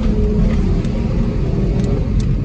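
A van engine drones steadily and loudly while driving off-road on larger tires, a continuous low rumble with a faint whir on top and no pauses.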